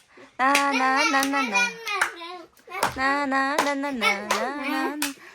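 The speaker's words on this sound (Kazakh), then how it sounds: "Сен просто шапалақ тұршы." Hands clap in quick bursts, people joining in at a party game while children's voices sing and shout loudly over the top for most of the time.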